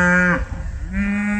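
Cattle from a ranch herd moo loudly and close by, two long lowing calls separated by a brief pause, with no people talking.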